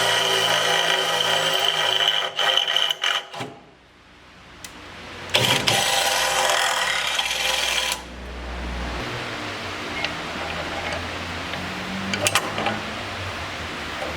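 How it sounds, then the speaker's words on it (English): A power drill bores holes in the bar of a Rockarmor wheel carrier on a Troopy. Several bursts of high whining run close and loud, split by short gaps and a quieter stretch with light clunks. No voice is heard. "I'm just going to drill those out now"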